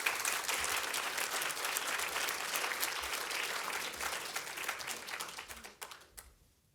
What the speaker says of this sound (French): Je vous remercie d'accueillir par vos applaudissements nos intervenantes